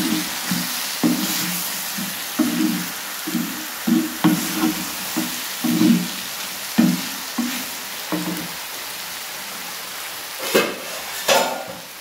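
Cooked beans stirred into a village-style dried fish curry sizzle steadily in the pan, with soft rhythmic scrapes and knocks of stirring repeating close by and no talk.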